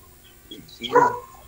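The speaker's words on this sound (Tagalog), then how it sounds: "Ingay naman ang aso nyo." A dog gives a single short, high yip-like bark up close, brief and sharp at the end of a quiet moment.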